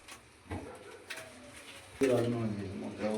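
Domestic pigeons, a pure Raj Rana hen kept alongside a pair of loft birds, give soft, low throaty coos close by, with a clearer, louder run of cooing in the last second.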